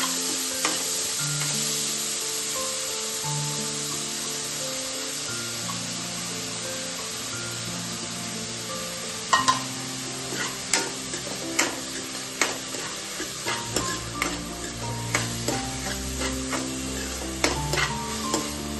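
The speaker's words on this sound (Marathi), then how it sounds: "त्यामध्ये आधी आपण कांदा भाजून घ्यायचा" Onion fried in oil on a tawa for a bread pizza topping makes a loud, continuous close sizzle. Partway through, a spatula starts tapping and stirring in irregular clicks, and no one speaks.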